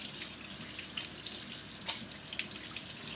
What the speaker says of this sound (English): So the more I rinse my hands, the more it starts to come off.